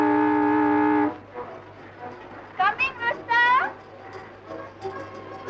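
A single sustained car horn blast sounds for about a second in an old 1954 Hindi film scene, followed by people talking.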